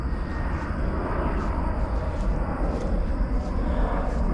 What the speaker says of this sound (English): Oh, that's a Frontier airplane.